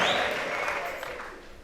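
A church congregation claps and ululates, a bright wash of hand-claps with a high trilling cry on top that fades quickly over a brief moment.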